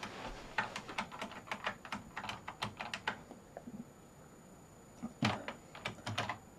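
Typing on a computer keyboard, close and fairly quiet, with rapid irregular key clicks in bursts, a pause, then another quick flurry of keystrokes.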